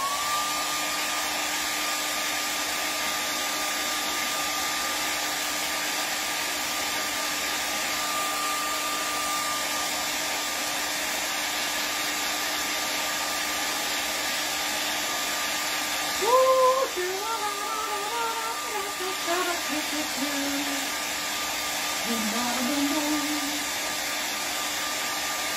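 Hair dryer blowing steadily to dry paint on a painting of a fall wreath, a constant loud whir throughout, with a few faint voice sounds partway through.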